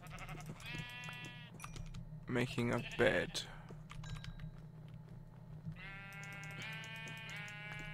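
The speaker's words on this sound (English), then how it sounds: "I am going to kill these sheep though" Sheep in the video game Minecraft bleat in two clear harmonic bursts near the start and end, with a voice talking briefly in between over a steady low hum and some keyboard tapping.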